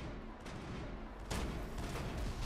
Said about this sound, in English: they're still firing rockets at us